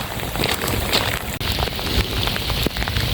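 Steady rain patters on surfaces outdoors, mixed with gusty wind buffeting the microphone, with no voices.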